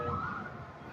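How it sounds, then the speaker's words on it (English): An emergency siren wails faintly outside, a short stretch of its rising and falling tone heard at a distance beneath low background rumble. "Here's a siren."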